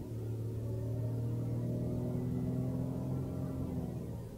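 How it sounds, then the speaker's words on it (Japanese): A Honda N-BOX kei car engine revs steadily under acceleration with ECON mode off, a continuous low, muffled drone with rising tones heard from inside the cabin, no talking. "調子に乗ってイーコンオフして、よりエンジン回転数が高まるような状態で踏みます"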